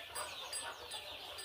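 Soft, intermittent clucking from two hens sitting on eggs in a home farmyard, low and fairly close, with no voices.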